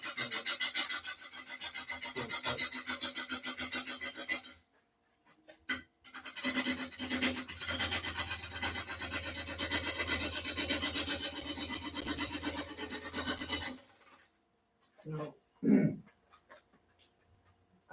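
Wood turning on an outboard lathe: long stretches of continuous abrasive scraping and rasping as the tool cuts the spinning wood, broken by a brief pause, ending with a few quiet knocks and thumps.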